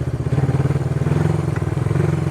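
A vintage Honda CB360 motorcycle idling close by, its engine giving a loud, steady pulsing throb while the clutch and gear shift are worked.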